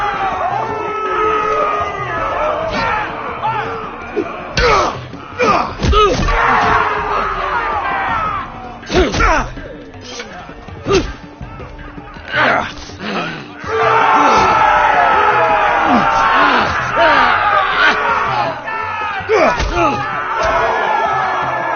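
An arena crowd from a Game of Thrones video game roars and cheers continuously, with loud thumps and slams breaking through the dense, sustained din.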